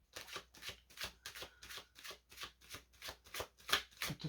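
Tarot cards shuffled by hand close by, a quiet, rhythmic series of about a dozen riffling bursts in regular succession, with no talking.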